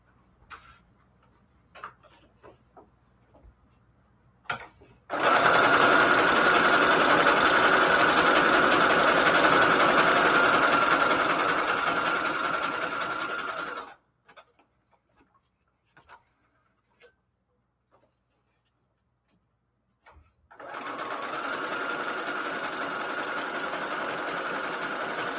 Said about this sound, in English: let's get to the sewing machine here